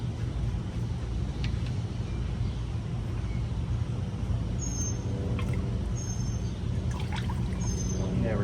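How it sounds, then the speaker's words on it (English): Hydraulic fluid pours steadily from a disassembled equipment cylinder into a bucket, a continuous close splashing trickle that runs throughout, with a few faint high squeaks near the end. "We're gonna pour it obviously into the bucket while we can."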